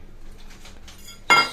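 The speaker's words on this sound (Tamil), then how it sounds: "இந்த பாத்திரம் ஒன்று வச்சுக்கிறோம்" A metal pot set down and handled in a kitchen while preparing sunda kanji, a short bright clank rising near the end after quiet rustling.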